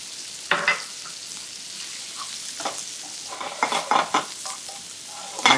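Leeks dropped into a hot pan beside crisp-skinned cod, sizzling in short bursts with stirring and a few scrapes of a utensil, quiet gaps between, no talking.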